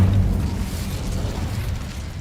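Incendio fire spell cast in Hogwarts Legacy: a short, deep whooshing burst that opens loudly, then settles into a low, steady fiery rumble that fades slightly over a couple of seconds.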